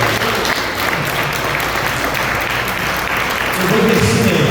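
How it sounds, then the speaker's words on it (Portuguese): Church congregation applauding during a Portuguese-language worship service, a loud, dense roar of clapping sustained throughout, swelling slightly toward the end. "Pode aplaudir Jesus Cristo."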